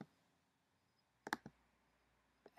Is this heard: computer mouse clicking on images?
yes